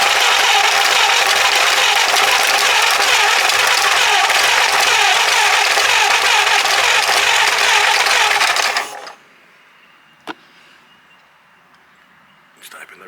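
An abandoned Ford flathead V8 that sat for over thirty years runs loud and rough on its carburettor for about nine seconds, then cuts out abruptly, leaving near silence broken by a sharp click.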